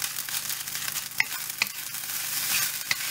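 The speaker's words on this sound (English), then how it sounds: "If the rice is kind of like big lump, you smash it down." Pork fried rice sizzles in a pan while a spoon presses and scrapes the lumps down, a steady frying hiss punctuated by a few sharp metallic taps, close and without speech.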